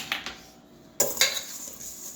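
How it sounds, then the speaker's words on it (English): A few light clinks and scrapes come from a utensil in a bowl as ingredients for a nectarine crisp are stirred together. The sounds are short and close, with quiet gaps between them. "Now we're going to mix this together."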